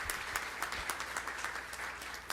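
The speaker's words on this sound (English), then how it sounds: "A round of applause for our Congressman" A crowd at a data center groundbreaking in Aurora, Illinois applauds Congressman Bill Foster, a short, faint spell of clapping with a few sharper individual claps and low thumps, heard from a distance.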